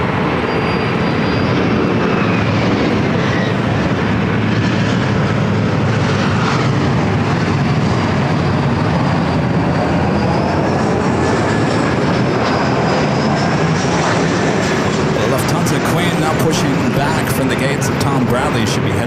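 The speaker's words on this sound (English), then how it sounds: "Getting ready for takeoff, as well as Delta Airlines flight 708 heading to Detroit," A Delta Airlines Airbus A321 spools up for takeoff at LAX, making a loud sustained jet engine roar with rising whines over the whole stretch, while a voice talks over it.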